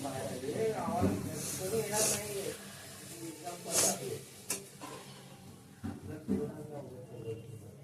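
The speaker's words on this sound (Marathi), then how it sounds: "भात शिजलेलो आ, तर मी तो आता गाळतोय" One kilo of cooked rice for chicken biryani is drained of its water, a close hissing, splashing rush that swells and fades in bursts while people talk over it.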